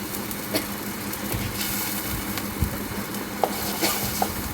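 Turmeric and spice paste (masala) frying in a pan, a close, steady hiss and sizzle running throughout, broken by a few soft taps and scrapes as it is stirred.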